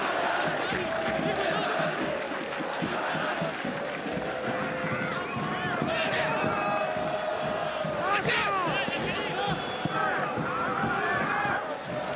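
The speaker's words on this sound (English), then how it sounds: "The crowd are really praying and believing in their side right now." A football stadium crowd roars continuously during an Al Ahly versus Monterrey FIFA Club World Cup 2021 match, a dense, loud wash of cheering and chanting with a commentator talking over it.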